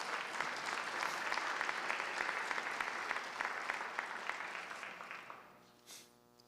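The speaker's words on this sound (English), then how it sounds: "Let's give him a round of applause." An audience at a school district awards ceremony claps steadily in a broad, dense wash of applause that tapers and fades out near the end.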